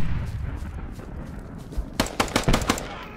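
Gunfire in the military shooter game Squad: a muffled battlefield rumble, then a quick burst of several sharp shots in rapid succession near the end, with no talk.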